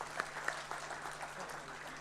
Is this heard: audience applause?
yes